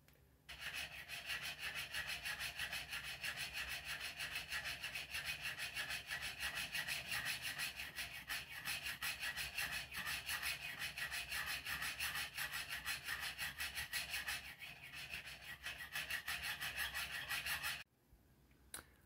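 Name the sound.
burnishing watch pivot with burnisher in Jacot tool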